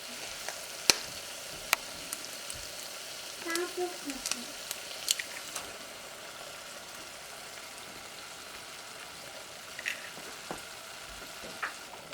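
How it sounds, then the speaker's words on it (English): Eggs going into a yellow pea curry in a hot pan, a soft sizzle with scattered clicks and scraping taps, fairly quiet and close, with a voice briefly heard. "So at this stage, I will be adding the eggs."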